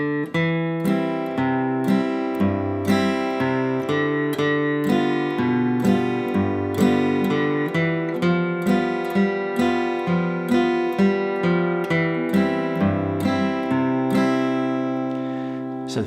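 Acoustic guitar playing Banks of the Ohio in Carter style, with low-string melody notes picked beneath steady higher chord strums in an even, bright rhythm, played solo and close with no talking.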